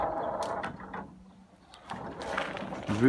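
A sliding gate on a motorised track rolls shut in freezing winter weather, a rough scraping, rumbling movement that fades briefly mid-way and then picks up again with clunks near the end.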